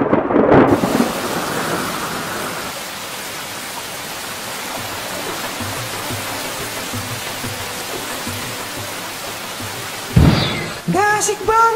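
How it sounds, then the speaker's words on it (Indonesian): Steady rain hisses throughout, with a rumble of thunder at the start and a louder crack near the end, during an outdoor kite-flying session; a brief voice sounds at the close. "Eh, malah hujan."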